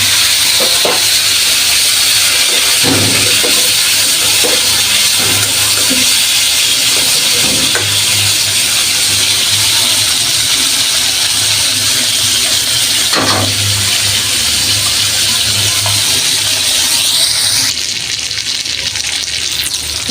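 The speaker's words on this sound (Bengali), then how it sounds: "তেল গরম হয়ে গেছে, এখানে যে মাথাগুলো হলুদ লবণ মিলিয়ে রাখছি, লেজাটাও দিয়ে দিছি, দিয়ে দিব ভেজে নিয়ে আসবো" Hilsa fish heads and tail, rubbed with turmeric and salt, fry in hot oil with a steady, loud sizzle and occasional crackles and stirring clinks, with no talking.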